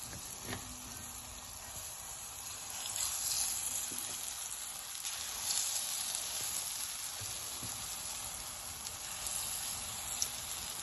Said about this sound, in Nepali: अब चाहिँ अघिको दालको ब्याटरलाई फ्राई गर्दैछु म